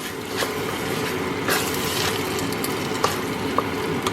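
Onions stirred into a pot of cooking risotto alla Milanese give a dense, steady bubbling sizzle, with a few soft spoon scrapes and taps on top.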